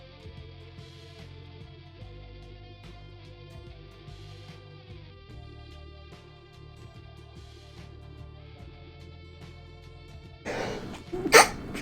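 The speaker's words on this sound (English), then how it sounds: "I'm fucking sneezing and coughing like crazy." A sudden loud, sharp sneeze bursts out near the end, following a long stretch of steady music-like tones.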